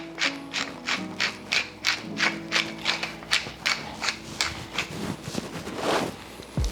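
A pepper grinder cranked over meat, a close run of about a dozen evenly spaced ratcheting grinds, then a brief rustle at the end.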